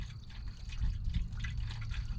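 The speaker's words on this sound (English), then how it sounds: "We're gonna get some water in there." Water poured into the radiator of a 1970 Ford F250, a soft, steady trickle and splash of liquid filling the opening, fairly quiet and close with no talk.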